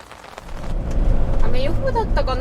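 Rain falls steadily outdoors, a broad hiss swelling louder over a couple of seconds with a low rumble underneath, while people talk over it.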